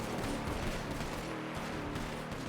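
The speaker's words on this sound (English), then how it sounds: "Shoot up the Hellions compound" Sustained automatic gunfire from a drive-by shooting in a video game, a dense unbroken rattle of shots filling the whole stretch at steady loudness, with no voices over it.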